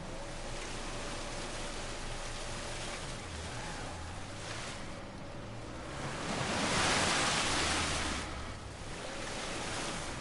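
Waterfall water in Uncharted 4 makes a constant broadband rush, rising louder and closer midway, with a faint engine drone underneath.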